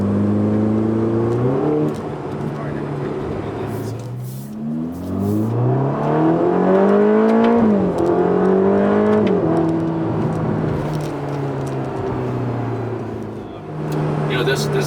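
Ferrari Roma 2+2 sports car accelerating on the road, engine pitch climbing through several gears in smooth rising sweeps, steady and fairly loud from inside the cabin.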